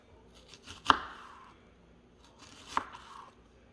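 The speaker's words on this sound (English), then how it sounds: "when it comes to my onion, same thing. I'm gonna cut it into long strips, like this" Two sharp knife chops through an onion on a cutting board while slicing it into long strips, one strike early and another a couple of seconds later, each with a short crunchy tail, in a quiet kitchen.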